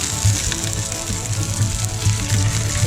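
Venison sausages fry in a pan with a constant crackling sizzle, close and moderately loud, broken by small pops and the occasional clink across the short stretch.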